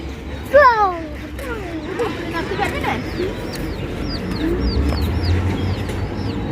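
Chickens cluck and squawk nearby in a farmyard setting, with one loud call early on, then scattered chirpy calls from several birds over a steady low rumble, partly under background voices.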